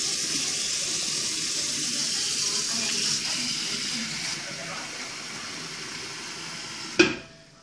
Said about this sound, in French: Maintenant, on va le mettre dans un saladier avec de l'eau salée à mariner avec 100 g de sel par litre d'eau.